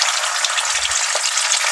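Garlic and ginger sizzle and crackle steadily in hot oil for a dhaba-style fried mash daal, a dense continuous frying hiss with a brief low stir partway through and no voices.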